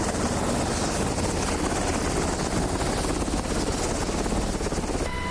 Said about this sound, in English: This is a very noisy helicopter.